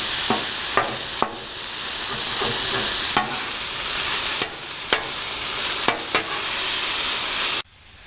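Fajita meat sizzles loudly on a Blackstone griddle, a bright, continuous hiss broken by the scrape and clack of a spatula turning it several times, close up; it cuts off abruptly at the end.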